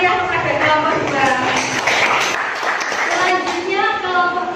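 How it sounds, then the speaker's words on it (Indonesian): A classroom breaks into applause for a student group, dense close clapping from many hands with children's voices chattering and cheering throughout. "Beri tepuk tangan yang meriah kepada kelompok 2."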